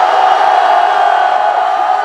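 Massed voices at an outdoor Independence Movement Day rally in Yeouido, Seoul, cheer and shout continuously, a loud, dense roar without pause.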